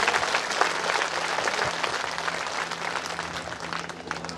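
Loud, dense applause from a crowd at a village religious gathering (divya darbar), sustained steadily throughout without a break.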